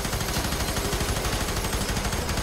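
Rapid automatic gunfire from the F.E.A.R. 3 video game crackles in a dense, continuous burst through the whole short stretch, loud and close with no voices over it.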